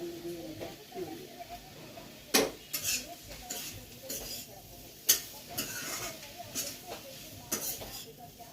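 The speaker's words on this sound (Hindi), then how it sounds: "छौंक रही हूँ सब्जी" Parmal vegetable curry is tempered and stirred in a pan on a home kitchen stove, with scraping spoon strokes and sharp metallic clanks against the pan over a low sizzle.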